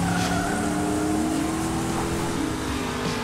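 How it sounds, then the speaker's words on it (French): Hot Wheels cartoon race cars roar steadily with rising engine whine and tire squeals, a dense, loud continuous wash of motor and skidding noise with no voices. "Pilote, faites chauffer vos moteurs."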